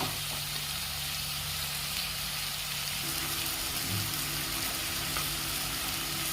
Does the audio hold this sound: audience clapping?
no